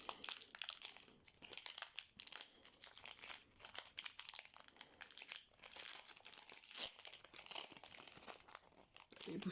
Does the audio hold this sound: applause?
no